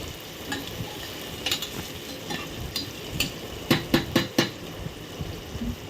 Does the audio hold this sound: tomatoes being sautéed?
yes